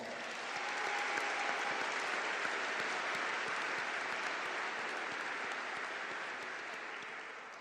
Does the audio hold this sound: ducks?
no